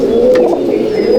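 Malwai pigeons at a loft in Halisahar give a steady, close, droning coo, one sustained call running through the whole moment without any voices.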